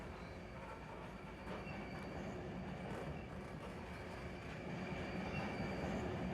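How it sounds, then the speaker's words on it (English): Train wheels creak and squeal in Run 8 Train Simulator, a steady dense rail rumble with continuous metallic screeching that swells slightly louder toward the end, no voices. "Eeking and creaking."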